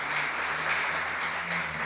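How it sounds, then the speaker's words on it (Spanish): Congregation clapping during a Sunday church service, a brief burst of dense, steady applause filling the room. "vamos a dar un aplauso a nuestro Dios."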